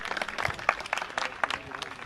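An audience at a Jain religious discourse gathering claps in steady, moderate applause that sounds somewhat distant and continues evenly throughout.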